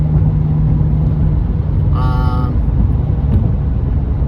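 A Mitsubishi Outlander Sport riding on BC coilovers, heard from inside the cabin as a steady low road and engine drone throughout, with a brief high chirp partway through.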